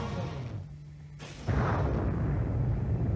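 Spaceship weapons fire in the mobile space-combat game Galaxy on Fire 2 as a sudden booming burst that cuts in after a quieter stretch and keeps rumbling loudly to the end.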